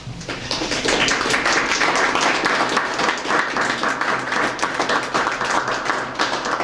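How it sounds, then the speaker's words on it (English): Loud, steady applause from a crowd at an Earth Day ceremony ringing the UN Peace Bell, many hands clapping continuously for several seconds, close and unbroken, with no talk. "she deserves a special applause"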